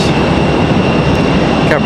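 A Spirit Airlines jet departs RDU airport in Raleigh-Durham, a loud, steady broadband engine roar that fills the whole moment without a break.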